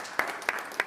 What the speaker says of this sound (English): You see that there is already a round of applause for what you said.